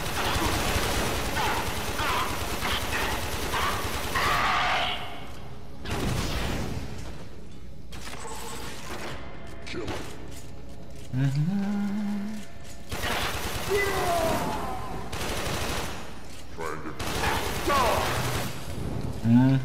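Gunfire from shooting in the sci-fi video game Warframe: dense rapid bursts of automatic shots and heavy blasts, loud and up close, broken by brief pauses and mechanical clanks, with game sounds and occasional tonal effects mixed in.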